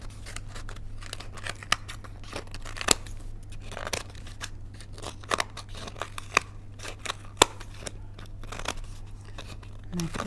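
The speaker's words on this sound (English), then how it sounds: "we can take our scissors" Scissors trim the overhanging excess fabric from the rim of a small fabric mâché bowl, giving irregular, sharp, close snips throughout over a low steady hum.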